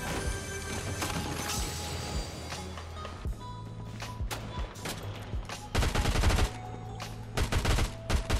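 Gunfire in Fortnite Zero Build: rapid automatic bursts and scattered single shots from the game's weapons, rising into loud dense volleys near the end over steady game background sound.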